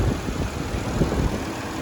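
With the hood up, a 2018 Holden Calais Tourer's V6 idles close by, a low, uneven rumble with light mechanical ticking and small lumpy surges.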